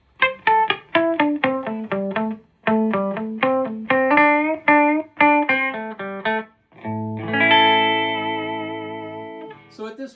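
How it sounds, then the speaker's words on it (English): A clean, bright electric guitar plays a quick run of plucked notes, then rings out a few sustained chords, loud and close with no distortion. "at this point, it just sounds like a loud, clean, bright guitar."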